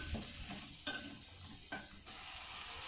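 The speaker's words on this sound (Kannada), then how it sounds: "ಗರಂ ಮಸಾಲೆನ ಹಾಕ್ಕೊಂಡು ಫ್ರೈ ಮಾಡಬೇಕು." Garam masala, turmeric, chilli and coriander powders frying with a paste in a pan for a potato tomato gravy, a steady close sizzle broken by a few scraping stirs of the spoon.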